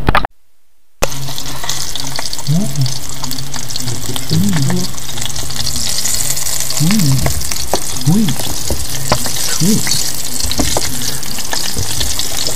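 Trout frying in a pan, a loud, close, steady sizzle with crackling, occasional scraping and stirring noises, and a brief silent gap at the very start.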